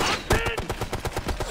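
Rapid gunfire in the military shooter game Ghost Recon Future Soldier, a quick burst of sharp repeated shots at an even rhythm, loud and close.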